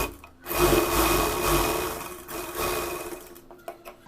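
A simple household sewing machine stitches a hook-and-eye fold on a blouse, whirring in a close burst, briefly slowing, then running again before stopping with a few faint clicks; no voices.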